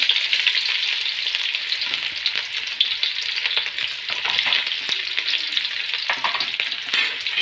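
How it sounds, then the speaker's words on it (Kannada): Chopped onions fry hard in hot oil with mustard seeds, a dense, steady crackling sizzle close up, with faint stirring scrapes and no talk. "ಈರುಳ್ಳಿ ಹಾಕ್ತಾ ಇದ್ದೀನಿ"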